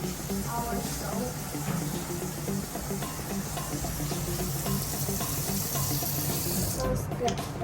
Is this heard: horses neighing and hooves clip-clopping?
no